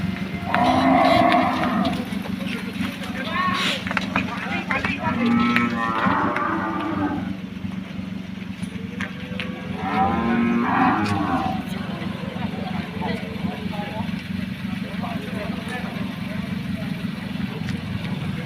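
Cattle moo repeatedly at a livestock market, several long lowing calls near and loud over a constant background murmur of people talking and engines idling.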